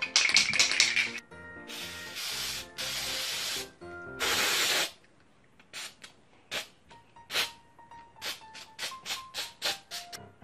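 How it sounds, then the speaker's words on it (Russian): An aerosol spray can hisses in long bursts over a handmade wax angel candle holder, several loud sprays close by, followed by a series of light taps and clicks. "Теперь нужно обшикать на него баллончиком."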